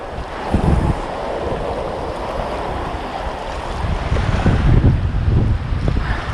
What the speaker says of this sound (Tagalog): lumakas na sobra yung hangin at lumaki yung mga alon.